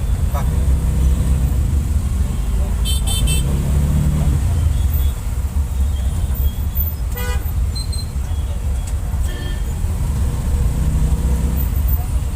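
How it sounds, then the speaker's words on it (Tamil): Busy daytime road traffic heard from inside a load auto rickshaw, a steady loud engine and road rumble throughout with several short car horn toots cutting through, some briefly doubled, and no clear talk. "இப்போ கூட இவ்வளோ டிராஃபிக் இருக்குங்க."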